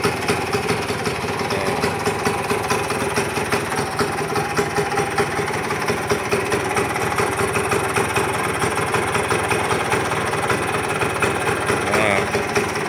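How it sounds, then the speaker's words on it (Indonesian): A 1976 Yamaha L2G motorcycle engine idles steadily and close by, a continuous even mechanical running sound with faint vibration throughout. "Mesinnya masih tetap padat mantap."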